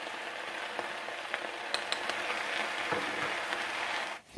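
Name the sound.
spinach and garlic frying in a pan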